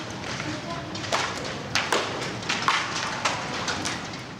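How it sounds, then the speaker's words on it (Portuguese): A monstrous hailstorm with hailstones striking in scattered, sharp thuds and cracks at irregular intervals over a steady background rush, with people talking underneath. "Não são fogos de artifício ao fundo. É uma monstruosa tempestade de granizo."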